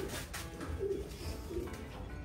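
Pigeons coo softly while feeding nearby, a few low faint coos over a quiet, steady background.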